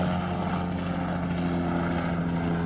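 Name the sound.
police helicopter flying overhead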